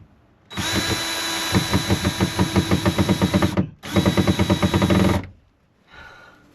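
A handheld power drill drives a screw in two loud, close bursts of whirring motor with a rapid ratcheting pulse, separated by a brief pause, then a faint short rattle afterward.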